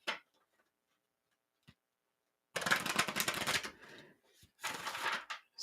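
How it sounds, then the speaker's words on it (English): Tarot cards shuffled by hand in short bursts of riffling and flicking, close and fairly loud, with a brief tap early on, then two longer shuffling passes separated by a short pause. "Shuffle one more time."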